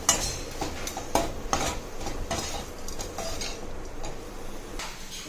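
A spoon stirs ground spice powder into sambar rice in a cooking pot, giving irregular scraping and clinking taps against the metal, close and fairly clear with no talk.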